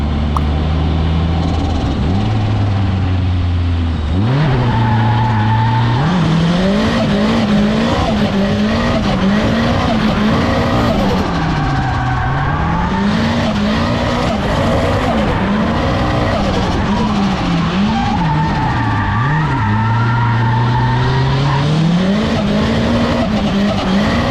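A car drifting around a hairpin track course at a drift day, with a loud engine revving up and down in repeated surges and tires squealing as it slides through the turns, close and continuous.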